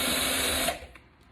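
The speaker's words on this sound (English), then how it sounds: "Set my drill back on drive" A cordless power drill in drive mode tightens a screw into a door striker plate during a new door handle installation, a short loud whirring burst that cuts off abruptly, followed by a quiet click.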